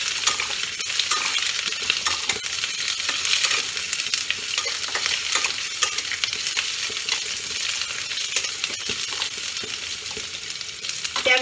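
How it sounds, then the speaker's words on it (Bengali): Potato and eggplant pieces fry together in a pan of hot oil with a loud, continuous sizzle and bright crackling spatters, heard up close with no talking. "তাহলে আলু বেগুন আমি একসাথে ভাজছি।"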